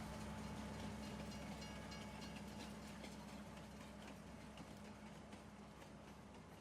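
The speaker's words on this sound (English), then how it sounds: "Go ahead and jump in the other train." A train in the Farming Simulator 19 game on the DonDiego map, a faint continuous rumbling roll with light rhythmic clatter and a low engine drone, steady throughout.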